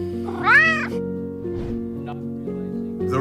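A cat meows loudly once at its soldier owner coming home, a rising and falling cry, followed by softer short mews over a steady background hum.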